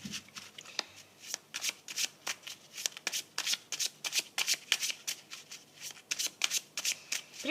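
Tarot cards shuffled in repeated quick riffling bursts, crisp papery flutters at a steady rhythm close by, with no voice over them.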